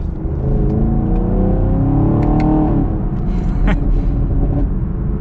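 A 2022 Chevy Camaro 2SS accelerates hard on a twisty road, its loud engine roar climbing in pitch, then dropping at an upshift and pulling again, steady and close throughout.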